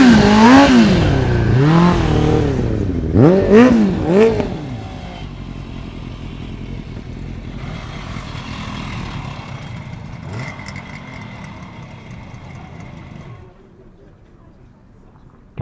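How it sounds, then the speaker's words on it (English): A classic late-1960s Kawasaki 250 triple motorcycle at an indoor show revs sharply several times, its two-stroke engine rising and falling in quick blips before settling into a lower idle, with people talking around it. "Kawasaki 250 triple."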